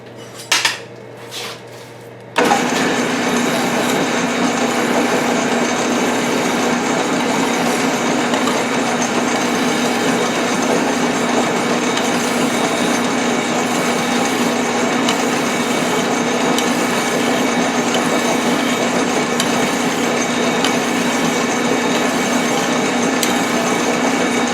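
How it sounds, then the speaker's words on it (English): A metal part for a hydraulic press is polished, with a few sharp metallic clanks before a steady, loud, continuous whirring grind takes over and runs evenly to the end. "Never hurts to polish things up a little bit, make them look good."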